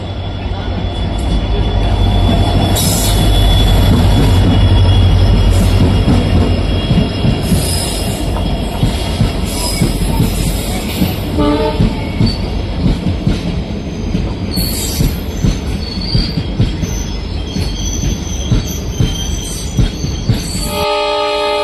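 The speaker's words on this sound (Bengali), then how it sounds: "এতক্ষণ গুলমা ফরেস্ট পার করে আমাদের ট্রেন এসে দাঁড়িয়েছিল গুলমা রেলওয়ে স্টেশনে" A Dooars local train on the Lataguri to Siliguri line runs through Gorumara forest, with a loud, close, steady rumble of carriages, rhythmic wheel clatter, metallic squeals and a horn sounding near the end.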